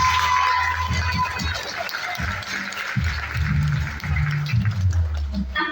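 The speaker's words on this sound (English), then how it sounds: "Round of applause for Dahlia." Sustained applause from a crowd at a Ramleela performance fills the clip, with clapping steady throughout and voices murmuring underneath.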